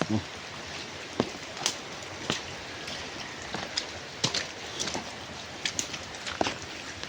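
Heavy rain hisses steadily outdoors while louder drops and splashes crack out irregularly on nearby surfaces, standing apart from the constant wash throughout.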